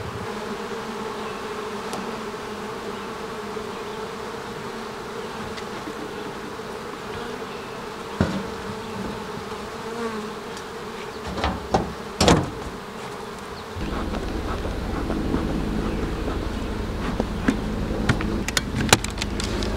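Honeybees buzzing around an open beehive full of larvae, a steady close drone with scattered clicks and knocks from handling frames, and a louder rumble joining partway through.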